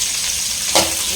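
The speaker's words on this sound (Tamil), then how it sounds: "ஆனியன் வந்து வதக்கலாம்." Onions sautéing in a hot pan with salt, a steady bright sizzle broken by two short stirring scrapes near the end, close and fairly loud, with no talking.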